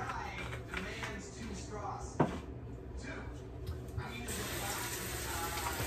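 Running tap water splashing while fish is washed with vinegar in a sink, steady and close, with a brief clatter partway through and a rise in flow near the end, under occasional talk.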